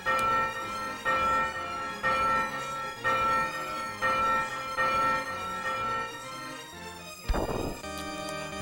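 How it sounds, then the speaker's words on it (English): A bell in the video game Demon's Crest tolls repeatedly with a bright, ringing metallic tone, about one strike per second, followed by a sharp crash-like hit and a lingering chime. There is no speech. "Let's ring this bell."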